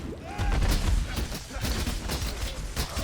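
Rapid bursts of explosions and gunfire-like pops as enemies blow up in Path of Exile, a dense, continuous barrage of loud game combat effects.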